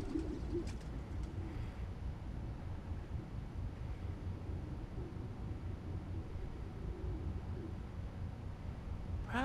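Pigeons coo softly and intermittently in the city streets of the video game Spider-Man: Miles Morales, their low calls set against a steady ambient rumble.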